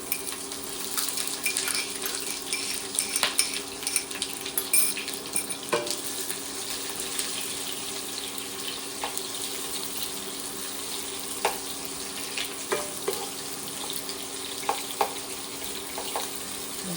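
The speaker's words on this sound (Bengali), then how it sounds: "এবার আমি পেঁয়াজ কুচিটা দিয়ে দেবো।" Chopped onion frying in a pan for dal chicken, a constant moderate hiss of sizzling oil dotted with scattered clicks and pops.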